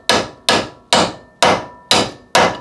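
Six sharp metallic hammer blows, spaced about half a second apart, ring out loud and close as a big hammer drives a tool into a bolt head on a Porsche 924 to notch it, each strike decaying quickly.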